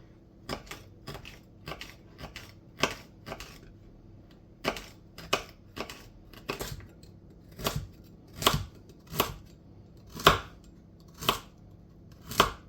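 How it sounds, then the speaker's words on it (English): A knife chops celery on a cutting board in sharp, separate knocks, about a dozen of them, irregularly spaced and growing louder toward the end, with no voices. "Take the ends off the celery if it's a little bit ropey looking."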